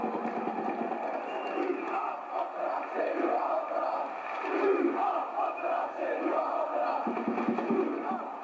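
Celtic and Rangers football supporters sing and chant sectarian songs in a dense, continuous crowd roar, heard from a moderate distance with rising and falling surges.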